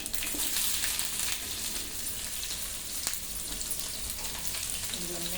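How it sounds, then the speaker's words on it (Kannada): Steady close sizzling of garlic and onion frying in hot oil with mustard seeds in a pan, a continuous crackle and hiss throughout. "ಬೆಳ್ಳುಳ್ಳಿ ಒಂದು ಐದು ಐದು ಹಾಕ್ಕೊಳ್ಳೋಣ ಸ್ವಲ್ಪ ಒಂದು ಅರ್ಧ ಈರುಳ್ಳಿ ಸೇರಿಸ್ಕೊಳ್ಳೋಣ"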